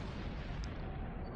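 A muffled explosion booms in the space game Star Trek Online, one low rumbling blast under a constant droning background, fairly faint.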